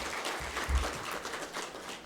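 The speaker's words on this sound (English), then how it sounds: "Shall we give another round of applause to Prof?" Brief round of audience applause for a professor at the opening of a national research conference, a short, moderately loud burst of many hands clapping, steady and without talk.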